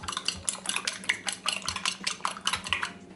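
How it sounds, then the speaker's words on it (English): Eggs being beaten in a bowl with a utensil, a fast run of close, bright clinking strokes repeating steadily throughout, with no talking. "Then we are going to beat the egg."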